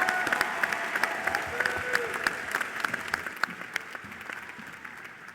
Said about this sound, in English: Please recognize her and the excellence she represents with your applause.